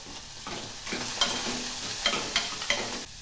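Oil sizzles steadily in a pan as chopped onions and green chilies fry, with clattering stirs and a few sharper scrapes, close up, no voices.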